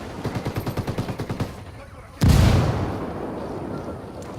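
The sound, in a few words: frag grenade explosion, Ghost Recon Wildlands video game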